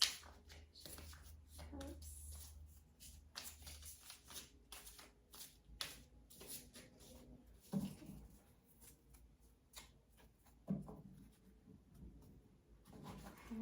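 Soft, repeated riffling of tarot cards being shuffled up close, quiet and steady, with faint hand movements and a voice at times.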